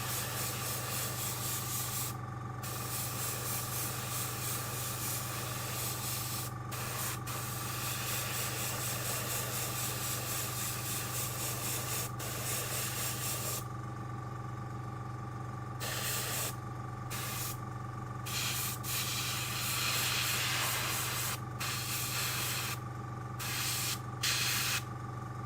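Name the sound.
airbrush spraying primer onto a miniature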